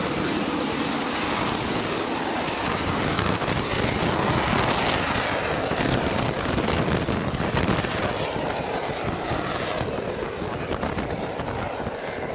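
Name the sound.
AV-8B Harrier jump jet flying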